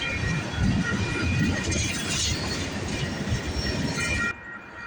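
A westbound CP freight train rolls past close by, a dense, steady roar of wheels and rumbling cars with faint clickety-clack, holding loud for several seconds before cutting off abruptly near the end.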